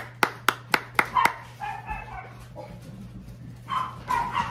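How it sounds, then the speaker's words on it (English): Several dogs bark in quick succession, a rapid burst of five sharp barks followed by softer yips and whimpers, fairly close and loud over a low background hum. "Do you notice that one dog barks and they all go?"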